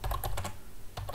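Quick bursts of clicking keystrokes as code is typed on a computer keyboard, close and crisp, with a short pause before typing resumes.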